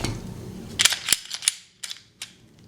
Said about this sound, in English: Let's safety check this gun before we do anything.